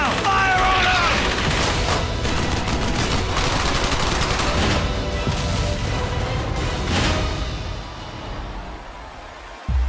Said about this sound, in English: Fire on them!